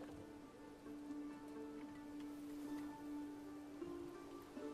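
Steady, faint rain falls in the medieval city-building game Manor Lords, a soft continuous patter with a light tonal hum from the game audio running underneath and no talking.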